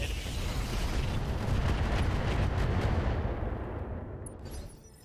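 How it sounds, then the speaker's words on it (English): Mech weapons firing at an enemy in the RogueTech BattleTech video game, a dense continuous barrage of booming fire and rumble that stays loud throughout and fades near the end. "Firing at enemy."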